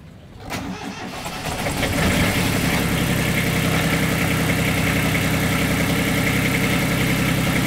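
A boat engine cranks and catches, then settles into a loud, steady idling rumble close by with a regular mechanical chug.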